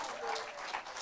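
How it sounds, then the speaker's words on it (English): Audience applause for a musician at a special music performance: a steady, moderately quiet wash of clapping that holds for about a second without a break. "Give a great round of applause."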